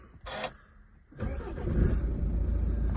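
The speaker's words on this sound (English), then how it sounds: "Start the car up." A BMW 2 Series 218d M Sport with a 2.0 diesel engine cranks and starts after a short click, then settles into a steady, close idle with a low rumble.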